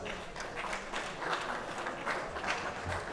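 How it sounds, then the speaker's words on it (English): Audience applause at a world classic powerlifting championship, greeting the squat finalists: a steady, fairly even wash of clapping from a crowd that holds through the whole stretch, moderately loud with small surges. "Give them all a big round of applause."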